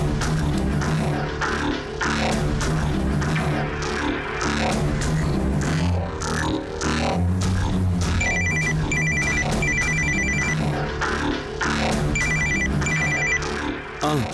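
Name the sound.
telephone ringing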